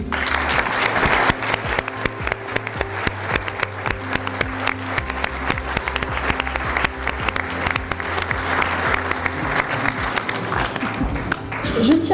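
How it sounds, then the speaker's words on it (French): Sustained audience applause at a mayor's New Year address to residents, a dense steady wash of many hands clapping for about twelve seconds with faint voices mixed in. "je crois que nous pouvons leur dire merci et les applaudir."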